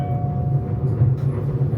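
A KCR train accelerates out of Shenzhen Station, heard from inside as a steady low rumble and roar of the running gear with a faint tonal whine, continuous and moderately loud.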